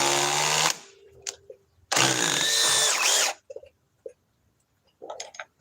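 A three-speed power drill runs on its high setting, a loud steady whine that starts and stops in two bursts of about a second each, with a few short clicks and handling knocks between and after.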